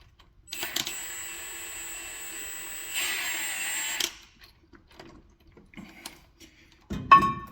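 An impact gun driving a bolt on a Ford F250 brake caliper, two close whirring bursts of a few seconds each, followed by faint clicks and a short clatter.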